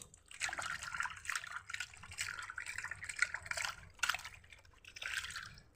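Water runs and splashes while cut bhola fish are rinsed by hand in a kitchen, a steady close trickle with brief louder splashes and no talking.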